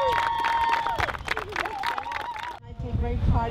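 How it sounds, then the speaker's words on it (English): Wedding guests applauding and cheering right after the couple is pronounced husband and wife, a burst of clapping and crowd chatter that cuts off abruptly partway through. "Let's give them a warm applause."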